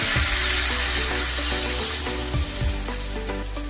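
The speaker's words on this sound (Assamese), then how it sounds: "তো এনেকৈ আমি লাহেকৈ পানীটো এনেকৈ এড কৰি দিম" Water poured into a pan of chicken fried until fully browned sets off a loud, steady sizzle that holds throughout, with a few brief bursts as the liquid hits the hot oil.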